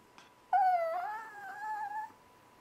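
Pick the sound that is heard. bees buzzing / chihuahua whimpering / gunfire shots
chihuahua whimpering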